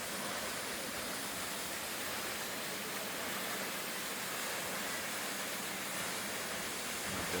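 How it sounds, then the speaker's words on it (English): Hardraw Force waterfall in Yorkshire roars as a steady, dense broadband rush of falling water, constant and close with no breaks throughout. "Welcome to Hardrow Waterfall."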